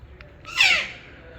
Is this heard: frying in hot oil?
no